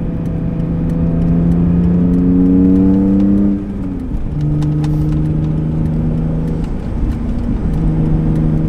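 A car on a test drive drives and accelerates, its engine loud and close, rising in pitch through the gears with a brief dip before pulling again; no voices.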